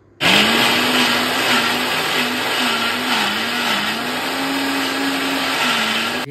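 A kitchen mixer grinder runs steadily at full speed, a loud continuous motor whine with a grinding roar that starts abruptly and holds at a slightly wavering pitch throughout.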